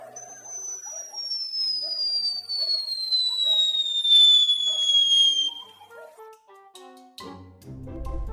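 A long, loud descending whistle, like a falling missile, attributed to a bare-throated bellbird (araponga) in rural surroundings. It glides steadily downward for about five seconds with a faint harmonic above it. Softer bird chirps sit beneath it, and a low rumble enters at the end.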